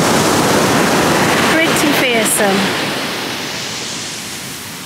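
Pacific Ocean surf on the Oregon shore roars as a dense, broad wash that slowly recedes, with a person briefly speaking over the waves.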